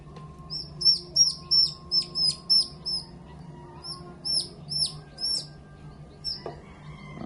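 Newly hatched baby chicks on their first day chirp in quick bursts of shrill peeps, clustered in two bouts separated by a short pause, close by against a quiet background.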